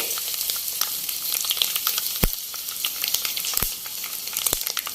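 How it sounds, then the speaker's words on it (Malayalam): Mustard seeds and two dried red chillies sizzle and crackle in hot oil for a Kerala-style beef pickle, a steady loud frying hiss broken by several sharp popping spurts, with no talking. "നമുക്കിതിലേക്ക് ആദ്യം കടുകിടാം"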